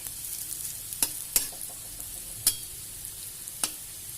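Potatoes, radish and kohlrabi fry in a pan, a soft low sizzle beneath four or five sharp, bright clinks of a utensil turning them, quiet and close with no voices.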